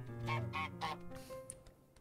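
Cartoonish geese in Untitled Goose Game honk several times in quick succession, a short burst of nasal calls followed by fainter game sound effects, with no talking.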